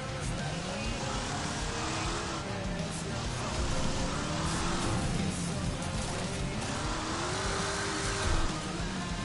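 A limousine's engine drones and revs in the Wreckfest racing video game, rising and falling pitch sweeps under continuous crowd-like race noise and other cars, steady and fairly loud throughout.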